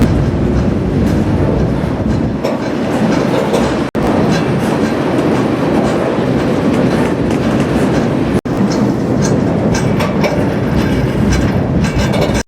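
A freight train rumbles past close by with a continuous heavy roar and rhythmic clatter of wheels over rails, steady and loud throughout.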